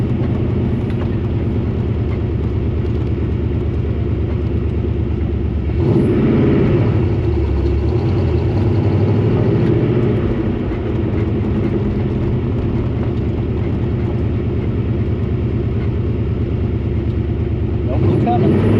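An old car drives across a parking lot, its engine a steady low rumble throughout with a louder surge partway through, heard close up while people talk over it.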